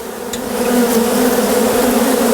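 A mass of honeybees swarms during a hive removal, making a loud, dense, continuous buzz close at hand that fills the whole stretch without any voices.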